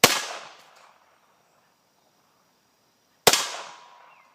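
Two sharp cracking shots from a Ruger MKIII 22/45 pistol firing .22 match ammunition outdoors, several seconds apart, each a loud bang with a short decaying echo and quiet between.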